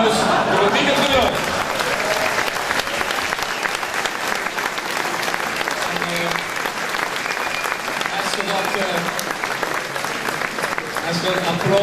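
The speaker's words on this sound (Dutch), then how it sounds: "Een geweldig applaus voor het Wiekertribunaal." A large audience at a Dutch carnival tribunal event claps steadily and loudly for about twelve seconds, a dense continuous wash of hands with a few voices mixed in.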